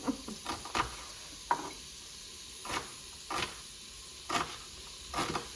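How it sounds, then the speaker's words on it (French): Meat and onions browning in a hot pan give a soft, steady sizzle, broken by occasional louder scrapes and stirs of a utensil against the pan. "Je vais mettre la viande à rissoler un petit peu avec les oignons."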